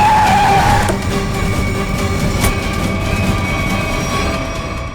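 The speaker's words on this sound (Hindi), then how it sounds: "गाड़ी रोक रोक रोक रोक रोक।" A car skids to a stop on a road, a sharp tyre squeal at the start fading into a loud rumbling slide that settles over five seconds, with no voices.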